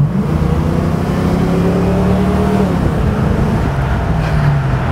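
A 1988 Ford Mustang GT 5.0 V8 convertible runs steadily with a deep, throaty drone, pitch rising and falling slightly as it pulls along; continuous and close, no talking.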